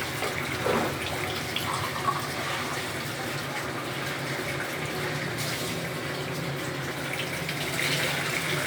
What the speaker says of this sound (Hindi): अब इसमें 1 गिलास पानी डाल के इसको वेट लगा लेंगे।